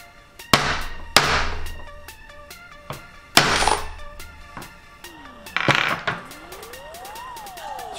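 Leather-craft rivets struck with a larger hammer, about five sharp metallic blows spread over several seconds with ringing decays, one faint tonal sweep near the end.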